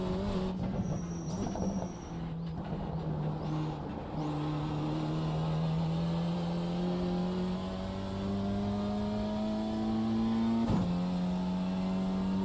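A BMW M2 race car in the iRacing simulator revs up through the gears, its engine note rising in long steady pulls with a brief shift break, loud and close with no talk.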